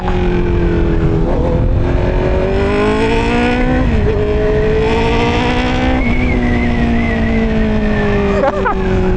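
A Honda CB650R motorcycle with an upgraded air filter revs loudly up and down in second gear, a continuous close engine drone with rising and falling pitch and no backfire pops.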